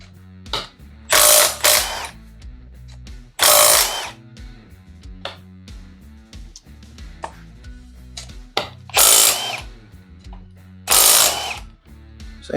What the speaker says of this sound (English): Jump up to the 1/2 inch impact gun for this one.